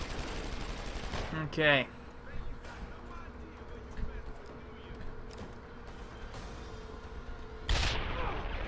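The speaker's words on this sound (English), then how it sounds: "just keep firing that gun, Barrett" Gunfire from Barrett's gun in the video game Deus Ex: Human Revolution, shown as a few sharp, loud bursts over a constant background, with a voice speaking briefly.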